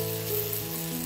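Masala sizzling in oil in a pot as it gets a quick mix, a steady close crackle with a low hum under it, lasting about a second.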